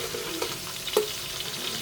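Chopped garlic sizzles and fries in a pan while noodles are being cooked, a steady close crackle with a few light stirring scrapes.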